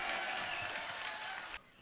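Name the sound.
audience applause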